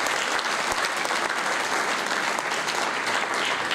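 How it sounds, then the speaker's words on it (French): A crowd applauding at a New Year's greetings ceremony in Ondres, steady dense clapping from many hands throughout, sustained and even with no voices standing out. "On peut les applaudir"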